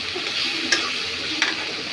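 Potatoes go into spices already fried in a pan. A steady sizzle runs throughout, with two light clicks from stirring. No one speaks.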